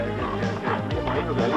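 A Presa Canario dog on the Canary Islands barks repeatedly in short, gruff bursts amid a busy, noisy background, fairly close but not loud.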